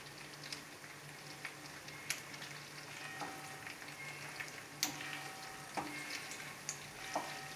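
Pasta stirred in a pan for a Turkish tomato-paste pasta, giving a steady soft sizzle with scattered scraping clicks and spoon knocks against the pan, close by with no voices.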